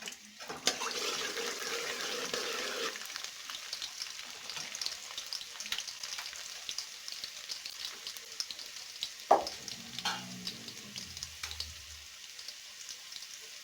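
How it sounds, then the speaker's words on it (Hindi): A soft sizzle of garlic frying in ghee runs throughout, fairly quiet and close, with a few clinks and scraping stirs near the end. "घी हमारा गर्म हो गया, ये लहसुन डालेंगे इसमें तड़का लगाने के लिए।"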